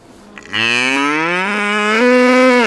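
A cow on a farm in Orapan, the Damanhur community's main farming settlement, lets out one long, loud, close moo that rises and holds steady for about two seconds.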